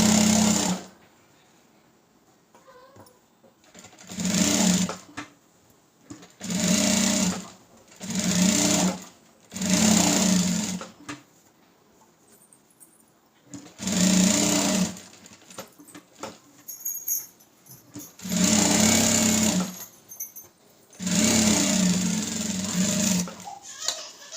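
Electric sewing machine stitching the lining of a designer blouse, running in about eight separate bursts of steady whirring a few seconds each, close and loud, with short quiet pauses between runs.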